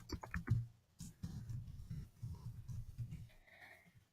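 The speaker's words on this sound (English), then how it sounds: "you'll see that I can type in these fields" A computer keyboard is typed on in quick clicks, faint and close, in a short burst followed by scattered softer taps.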